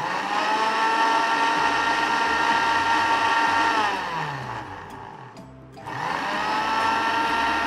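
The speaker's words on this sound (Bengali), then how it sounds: "এখন হচ্ছে ব্লেন্ড করব।" An electric blender whirs loudly and steadily as it blends a mint lemon drink, then its motor winds down almost to a stop and spins back up again.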